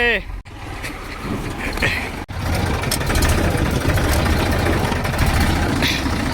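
A farm tractor driven by small children idles with a steady, loud low rumble, broken by two sharp dropouts early on before settling into an even drone.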